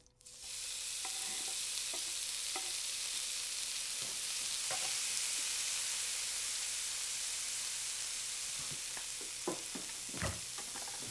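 Onions frying in rendered bacon fat, a steady dense hiss and sizzle lasting throughout, with scattered small crackles and a couple of faint utensil knocks, close and even in level.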